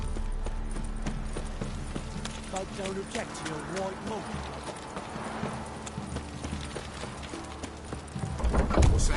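Horse hooves clip-clop steadily in a PS4 video game, a continuous trotting rhythm running under game music and spoken dialogue throughout, with a louder burst near the end.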